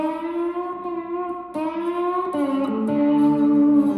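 A sustained, bright slide guitar note in standard tuning glides upward in steps, landing on a held bluesy pitch with a twangy, slightly distorted tone, played alone.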